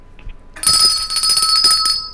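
A bright bell rings out with a sustained, shimmering tone that lingers for over a second, loud and close.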